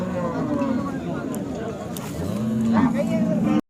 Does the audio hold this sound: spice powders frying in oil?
no